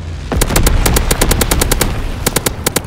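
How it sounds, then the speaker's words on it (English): Anti-aircraft guns in a war video game fire rapid, loud bursts of evenly spaced shots, a brief pause breaking the stream before a final volley. "Anti-aircraft burst has commenced."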